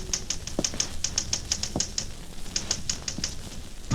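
A 1945 radio crime drama's typewriter sound effect: rapid, steady clacking keystrokes with an occasional heavier carriage thud, close and continuous with no voices.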